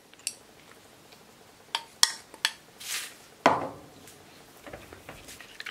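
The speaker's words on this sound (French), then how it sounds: "On met dans le saladier donc les 2 œufs, le lait et on vient donc fouetter" Whisking eggs, milk and Nutella in a mixing bowl for cupcake batter: scattered clinks and scrapes of a utensil against the bowl, irregular and fairly close, with no talking.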